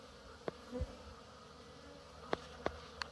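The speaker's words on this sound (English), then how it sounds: "they seem like they're kind of happy bees today" Honey bees fly around an active beehive on a warm November day, with a low, faint buzz and a few brief passes of single insects near the microphone.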